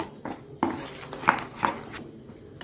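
A spoon scrapes and clinks against a bowl while ground turmeric, salt and sugar are mixed into chana dal paste, a few sharp metallic taps scattered among soft scraping, close by.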